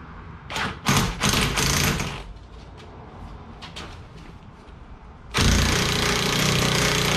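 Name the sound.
tightening a lug nut onto a new wheel stud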